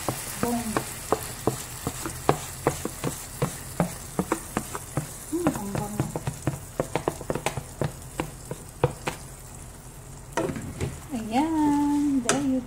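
Garlic frying in a pan while being stirred, a soft crackling sizzle broken by repeated sharp clicks and scrapes of a utensil against the pan, close, with a person talking briefly at moments.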